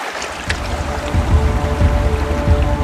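Water streams running down from the Aravalli hills make a continuous rushing, burbling flow that swells slightly partway through, steady and fairly loud with no voices.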